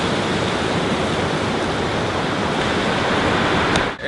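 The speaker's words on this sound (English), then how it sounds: "It's a bit stormy here today in Byblos, Lebanon. The water's coming right up to the apartment almost." Stormy sea waves surge near an apartment on the shore at Byblos, Lebanon, as a loud, constant broadband roar of churning surf with no distinct breaks, dipping briefly right at the end.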